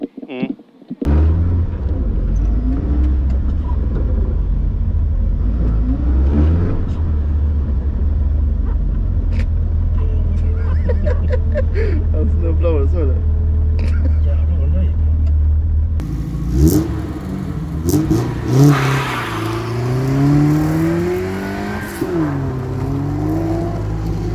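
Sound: Volvo 240 rally car accelerating on practice run

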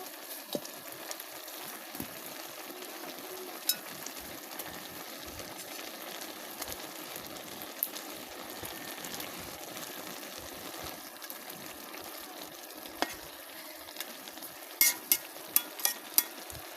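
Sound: water lily and taki fish simmering on clay stove

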